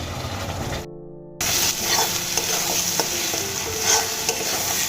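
Spice masala frying and being stirred in oil for katla fish kalia, a loud continuous sizzle with scraping spoon strokes, briefly cut off by a short gap of silence before the sizzling resumes.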